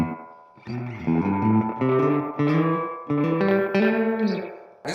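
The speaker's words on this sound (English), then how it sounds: "I'll use a quick delay to simulate the kind of rooms" An electric guitar runs through a Fender pedal set to a quick delay, playing a short phrase of repeated sustained notes and chords with a slight echoing tail, with no voices.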